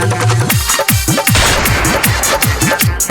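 Gunshot sound effects fired in rapid bursts within a Maithili gangster-style song, sharp repeated cracks layered over the loud music throughout.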